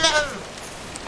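Two short goat bleats, one at the start and one at the end, close by with quiet between them.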